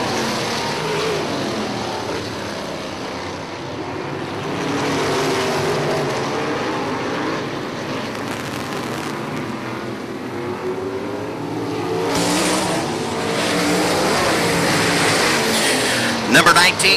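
Sprint cars race around a short track as one car goes around the outside of another, a steady distant engine drone under a race announcer's continuous commentary, swelling louder near the end as the field passes close.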